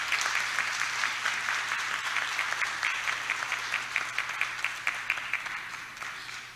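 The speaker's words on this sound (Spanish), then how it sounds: "Yo quiero pedir nuevamente, de parte de todos, un fuerte aplauso para ellos." An audience at a church anniversary conference on the 500th anniversary of the Protestant Reformation breaks into sustained applause, a dense, even wash of many hands clapping that stays fairly steady throughout.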